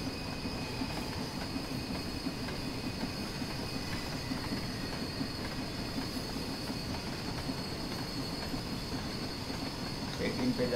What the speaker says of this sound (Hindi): अब जो ट्रेन है 18-19 स्पीड पे जा रही है, ओवर द लिमिट